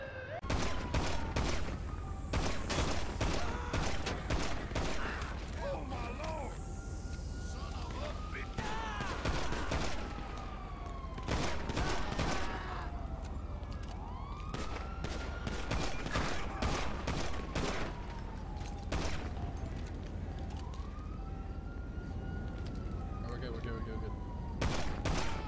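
Gunfire in the video game GTA 5 comes as repeated bursts of rapid shots over a long stretch, with police sirens wailing through the scene and players' voices talking over the action.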